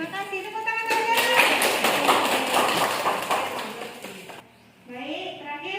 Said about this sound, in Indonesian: Tepuk tangan Azara.